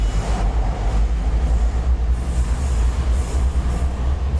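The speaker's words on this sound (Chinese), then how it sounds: "这个地方就不是地铁了，这地方就地上铁了。" A metro train runs on an elevated track in Kuala Lumpur's Cheras area, producing a loud, continuous low rumble with faint rhythmic wheel clatter, heard from close by and without talk.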